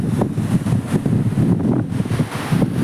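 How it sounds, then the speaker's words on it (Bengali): Water pours through the DVC barrage while the listener stands well below the main road, giving a steady, loud, broadband rush with gusting wind buffeting the microphone throughout. "কীভাবে ব্যারেজে জল ছাড়া হয় আপনারা এটা অনুভব করতে পারছেন"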